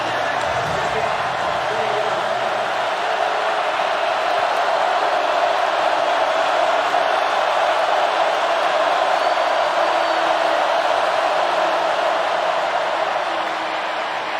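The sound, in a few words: stadium crowd getting loud at college football game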